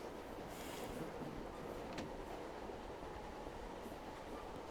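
Steady rattling rumble of a moving train in Silent Hill 3, continuous and close throughout, with a brief sharp metallic click in the middle and no talking.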